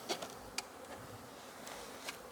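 Honeybees hum around the hole of a beehive inner cover during a burr comb inspection, a faint, steady buzz with brief closer passes as single bees fly near.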